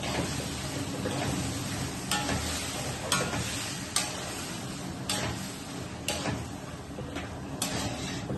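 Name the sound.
stirring spices and sev curry in a pan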